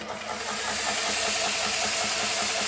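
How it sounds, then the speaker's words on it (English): A GX Pump CS2 air compressor runs with a steady, loud mechanical drone and rapid rhythmic pulsing under a broad hiss, starting up almost at once and holding an even level. "starting the compressor"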